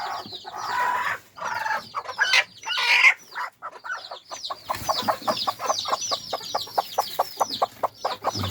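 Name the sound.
hen clucking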